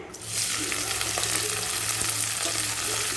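Onions, mint and green chili frying in hot oil in a kadai fill the scene with a loud, steady sizzle that keeps up without a break, with no talk over it.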